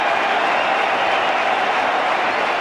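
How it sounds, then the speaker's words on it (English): Steady, dense applause from a large stadium crowd at the 1996 Cricket World Cup final between Sri Lanka and Australia, a continuous loud wash of clapping with no breaks. "And the crowd certainly appreciating the work done by Kalu Witharana."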